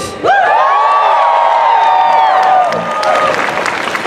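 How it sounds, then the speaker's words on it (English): A rally crowd cheering loudly after a speech, with a sustained wash of whoops and shouts and clapping beneath, close and dense, easing slightly toward the end. "I'm so glad to see how enthusiastic this crowd is today"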